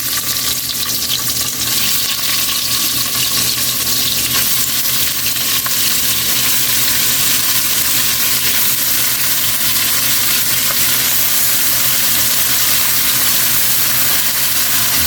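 Beef frying in a pan, a steady loud sizzle and crackle holding constant throughout with no talk.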